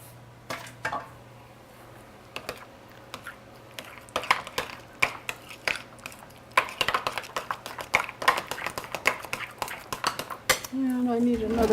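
In a kitchen, a spoon and spatula scrape food off against a bowl. The clatter is irregular, with quick metallic taps and scrapes that grow busier and louder toward the end, over a low steady hum.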